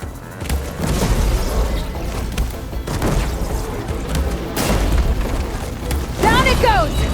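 Bombs detonate in Horizon Forbidden West, a series of loud booming blasts and crashes rolling through a fight, with a voice briefly calling out near the end.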